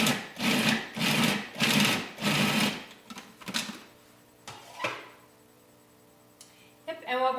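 Food processor chopping dates into raw chocolate cookie dough, running in four loud pulsed bursts, then several shorter bursts and clunks as it slows, followed by quiet.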